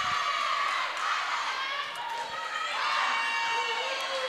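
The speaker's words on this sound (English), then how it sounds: "the crowd is loud here today" Loud crowd noise fills a high school girls basketball game between Humboldt and Highland Park, a steady dense roar of many voices throughout with swells of cheering under a commentator.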